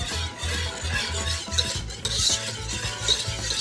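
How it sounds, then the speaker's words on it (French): A whisk works an egg and sugar mixture into heated milk in a pan, making a close, steady swishing with a rhythmic low pulse from repeated strokes. "Je vais mélanger dans le lait progressivement tout en remuant."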